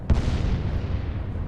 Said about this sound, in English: There are secondary explosions.